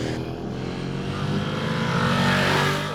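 A Yamaha YZF-R1 RN09 sport motorcycle engine hums steadily at close range with a rising pitch as it accelerates, continuous throughout with no talking.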